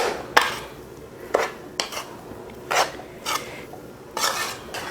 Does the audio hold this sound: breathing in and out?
no